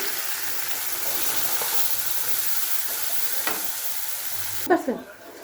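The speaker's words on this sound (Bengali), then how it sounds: "তেল গরম হয়ে গেছে আমার পেঁয়াজ কচি" Chopped onion hitting hot oil in a pan, a continuous close sizzle with occasional stirring scrapes and a brief louder clatter near the end, with no talk.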